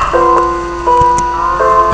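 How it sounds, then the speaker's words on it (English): Bright, tinkly Minecraft background music with sustained tones and soft plucked notes, a gentle synthetic melody playing steadily. "And my Minecraft music is hella loud."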